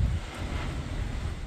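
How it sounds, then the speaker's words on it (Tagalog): Low, rumbling gusts of strong typhoon wind buffeting the microphone in Baguio during Super Typhoon Leon, a steady roaring whoosh throughout the short stretch. "Pabugso-bugsong hangin at malakas na ulan ang dala ng Super Typhoon Leon sa Baguio."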